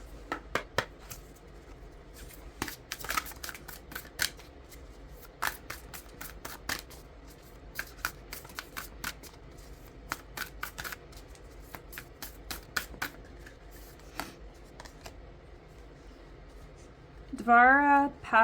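Tarot cards being shuffled by hand, a string of crisp riffling slaps and flicks at irregular intervals, fairly close, ending with a brief burst of louder sound at the end.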